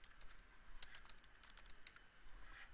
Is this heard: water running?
no